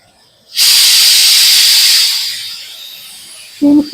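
A pressure cooker whistle lets off a loud, sustained hiss of steam that fades gradually, with a brief knock near the end, during cooking of shahi jackfruit curry.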